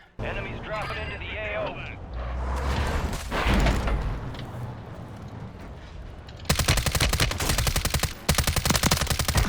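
Rapid automatic gunfire in Call of Duty Warzone: a loud, dense burst of shots from a teammate, with a speaker's talk and other game noise heard before it.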